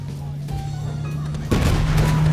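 Turret gunfire in Borderlands 3 during a fight with a COV dropship: a dense, loud burst of rapid shots breaks in about halfway through, over a steady low game hum with voices talking throughout.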